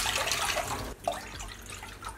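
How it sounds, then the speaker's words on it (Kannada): Water is poured into a cooking pot to be set boiling for rice-flour idli batter in a home kitchen, a broad wet splashing wash that runs steadily and close, with a brief dip midway and no talking. "4 ಕಪ್ನಷ್ಟು ನೀರು ಸೇರಿಸ್ಕೊಳ್ಳೋಣ. 4 ಕಪ್ಪು ನೀರು ಕುದಿಯೋಕ್ಕಿಡೋಣ."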